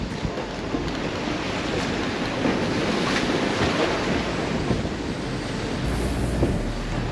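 Strong wind buffets the microphone on a sea wall during surfcasting, a loud continuous roar mixed with surf, with no talk.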